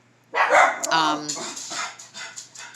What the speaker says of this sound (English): My doggy started barking.